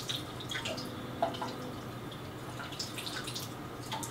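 Running tap water rinses silver coins freshly scrubbed with dishwashing liquid and baking soda, a soft steady trickle with scattered drips and light splashes, no voices.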